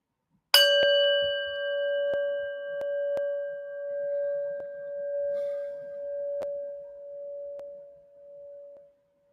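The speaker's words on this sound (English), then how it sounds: "And listen to this bell." A single bell is struck once and rings out clearly, its pure tone slowly fading over several seconds with a gentle wavering shimmer.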